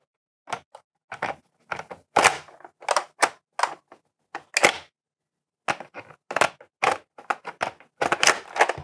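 Sharp plastic clicks, clacks and rattles come in quick irregular bursts as a magazine is pushed against an Ultra foam blaster, close and fairly loud with short pauses.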